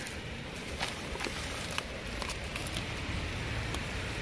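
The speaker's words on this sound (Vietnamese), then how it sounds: "hôm nay trời mưa quá" Steady rain patters on a car while driving to the market, a dense close hiss with scattered sharp drop taps and no voices.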